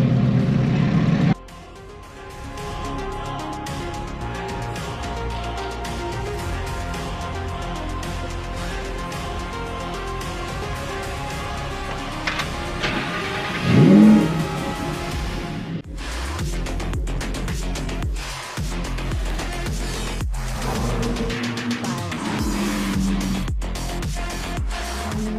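Lamborghini Huracan STO with a naturally aspirated 5.2-litre V10 drives on a race track, the engine droning steadily and rising through the revs, with a brief louder surge midway and shifts in tone near the end.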